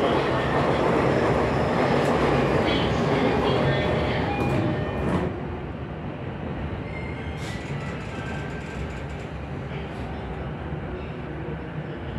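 A Japanese subway train rumbles steadily along with dense low-end roar, louder at first and then settling into a quieter continuous hum, with faint bursts of noise.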